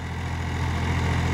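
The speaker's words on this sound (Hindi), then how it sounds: "रोटावेटर भी काफ़ी अच्छा घूम रहा है, कुछ ट्रैक्टर में ताकत है, ये भी तो ये खींच रहा है" A Massey Ferguson 245 DI 50 HP tractor pulls a rotavator through a farm field, its diesel engine giving a steady, loud, low rumble that carries on without a break.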